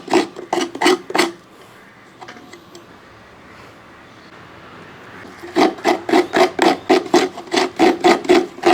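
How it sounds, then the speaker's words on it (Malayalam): Coconut is grated by hand on a traditional scraper for chammanthi podi, producing rapid rhythmic rasping strokes, close and loud, in two bursts separated by a quieter stretch of low background noise. "അതൊക്കെ ഒന്ന് ചിരണ്ടി എടുത്തിട്ട് വേണം നമുക്ക് ചമ്മന്തിപ്പൊടി റെഡിയാക്കാനായിട്ട്"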